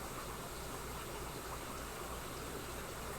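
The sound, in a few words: water running in aquarium sump for cichlid tanks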